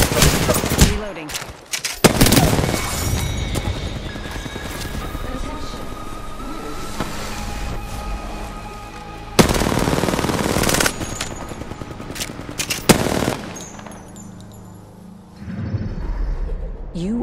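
Heavy automatic gunfire in Apex Legends, a battle royale video game, rattles continuously for long stretches with punchy louder shots and brief pauses, game voice lines underneath.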